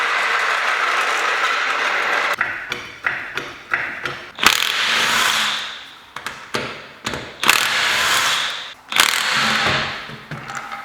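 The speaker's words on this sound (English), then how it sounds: "I finally also got an impact wrench" Impact wrench bursts rattle sharply as car wheels come off, loud repeated hammering runs of varying length separated by short pauses, close and without speech.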